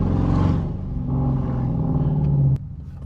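A straight-piped Dodge Durango R/T engine growls under acceleration, a loud, deep rumbling drone that rises in pitch, then cuts off sharply into a lower idle.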